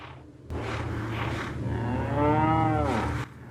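Cow in the Resident Evil 4 VR video game lets out a single long, loud, close moo that rises and falls in pitch over a low steady background hum.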